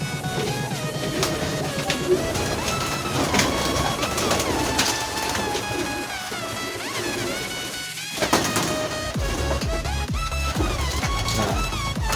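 Pigeons coo and murmur steadily in a coop, with layered birdsong and scattered clatter nearby, a dense, busy soundscape with no one speaking.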